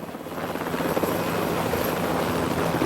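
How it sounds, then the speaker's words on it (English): A helicopter flies close by, its rotor blades chopping in a steady rapid pulse over a constant engine whine, loud and continuous throughout. "The helicopter made a run for it."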